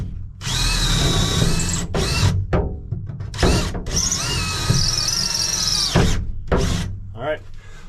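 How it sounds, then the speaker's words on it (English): Power drill boring a hole through the floor of a Ford F250 truck, loud bursts of high whining and squealing bit noise in several pulses separated by short pauses, close up. "The drill bit came out exactly where I wanted it to, right in front of this cross member and right behind this channel."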